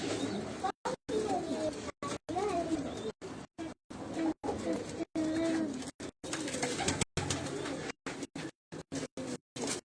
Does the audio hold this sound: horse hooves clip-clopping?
no